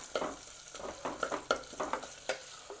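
Onions for pav bhaji sauté in a pan, a quiet sizzle punctuated by quick, rhythmic spatula scrapes against the metal, heard up close with no speech.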